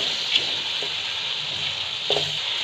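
Vegetables frying for a vegetable biryani in a home kitchen give a steady, close hiss of sizzling oil, with a few faint clinks of stirring and no talking.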